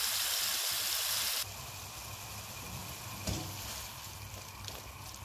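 Potatoes frying in a pan over a moderate flame, giving a steady, close sizzle that continues without a break and has a faint clink partway through.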